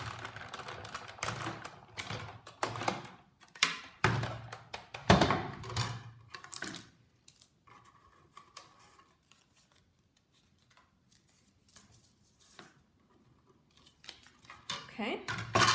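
A Big Shot die-cutting machine presses cardstock and dies between cutting pads, producing close, repeated clattering and ratcheting clicks that fade to a quieter stretch in the middle and then pick up again.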